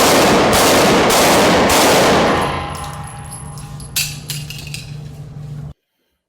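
A rapid burst of loud gunfire echoes for a couple of seconds during an active shooter training scenario at a mall, followed by scattered metallic clinks and pings before cutting to silence.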